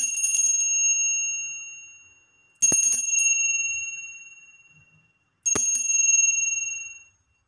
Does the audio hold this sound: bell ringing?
yes